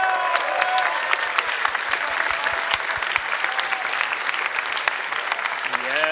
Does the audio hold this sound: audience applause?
yes